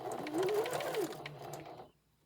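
A sewing machine stitches around a fabric memory bear in one steady, fast whirring run of close, loud mechanical hum that stops abruptly after about two seconds.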